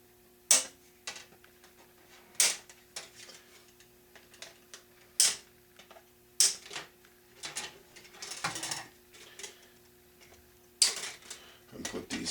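Plastic roof parts for a Walthers HO scale structure kit are snipped from the sprue, producing a series of sharp, crisp clicks spaced a second or two apart, close and quiet with no speech.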